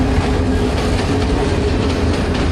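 The Teesta Express, an old passenger train, rolls into Pearpur railway station with a loud, steady, close rumble of wheels and carriages and no voices over it.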